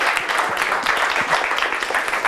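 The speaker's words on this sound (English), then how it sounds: "Huge round of applause." An audience at a tech talk on securing Rubygems claps together in a short burst of applause, dense and fairly close, steady across the whole moment with no talking over it.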